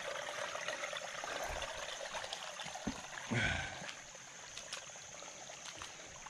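Creek water trickles and burbles over rocks close by, a soft, continuous flow with occasional splashes and one brief louder gurgle midway.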